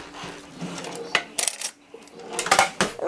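Kitchen clatter of cutlery and dishes as a knife is fetched at home, a string of sharp metallic clinks and knocks in irregular bursts, close and fairly loud.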